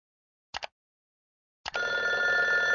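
An old black rotary telephone in a video game's aging house starts ringing loudly and continuously after two brief faint rattles, the bell tone sustained without pause.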